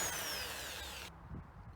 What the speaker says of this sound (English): Make sure you drill the pilot hole and put the screws in the middle of the feet.